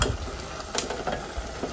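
Short scraping stir through a pot of boiling string beans, a spoon clinking and swishing in bubbling water, with soft sizzling and a brief louder scrape partway through, close and fairly quiet.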